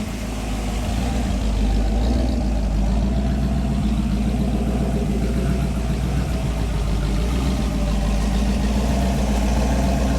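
The engine of a 1976 Pontiac Trans Am Special Edition idles steadily up close, a deep continuous rumble with a slightly uneven, rough pulse and no other sounds.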